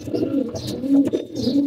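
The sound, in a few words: pigeons cooing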